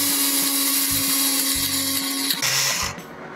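A small toy-style blender whirs steadily as it mixes milk porridge with banana, a close continuous motor hum with a few brief pulses before it winds down near the end.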